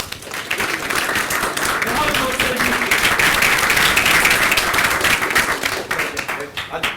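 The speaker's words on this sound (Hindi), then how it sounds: "बहुत तालियां बजनी चाहिए इनको" Sustained audience applause at a group discussion and interview training session at SSBT Jalgaon, dense steady clapping from many hands filling the room for several seconds.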